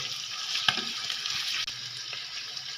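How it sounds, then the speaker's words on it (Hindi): Chicken liver frying in a pot, giving a steady hissing sizzle with a brief clatter near the start, close and moderately loud, with no talking. "इसको अच्छी तरह भूनेंगे"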